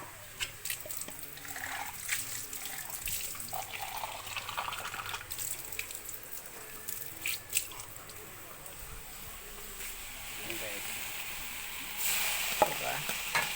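Cabbage sautéing in a pan for lunch, with steady stirring scrapes and a soft continuous sizzle, occasional clinks and a brief tap-water trickle near the end; close and moderate in level.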